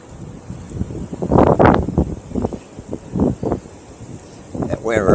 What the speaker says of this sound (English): It's really windy out, doggies.